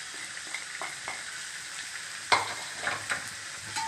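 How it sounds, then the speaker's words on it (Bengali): Ground spices sizzle and fry in a pan with Kashmiri chilli, ginger, turmeric and coriander-cumin powder, while a spoon scrapes and stirs in a few distinct strokes over a steady crackle. "একটু নেড়ে দেবো।"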